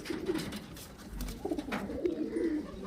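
Young highflyer pigeons coo softly and repeatedly in a low, throaty murmur, close by, over a faint background hum.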